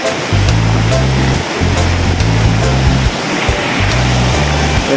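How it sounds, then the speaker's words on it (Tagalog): Water rushing and pouring steadily at San Luis Falls, a loud continuous roar close by, with low droning tones pulsing underneath in repeated bursts and no voices. "Haba ng tubig na umaagos oh"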